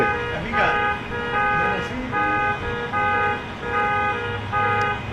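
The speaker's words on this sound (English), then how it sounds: "it was causing all of those car alarms to go off like we're seeing now" Several car alarms wail at once in a repeating on-off pattern, loud and close, with people talking over them.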